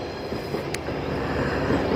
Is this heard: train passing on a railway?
yes